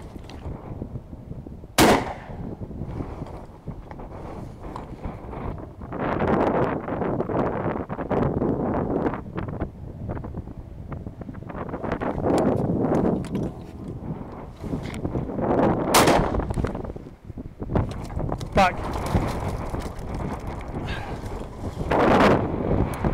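Shotguns fired while wildfowling outdoors, several sharp, loud reports spaced across the stretch, one close and crisp, the others duller, over steady wind buffeting the microphone and faint background voices.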